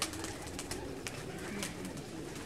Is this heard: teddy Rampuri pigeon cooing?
yes